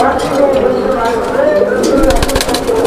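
Pigeons coo at a pigeon seller's stall, a steady murmur of soft cooing and bird calls running throughout, with a few brief clatters near the end.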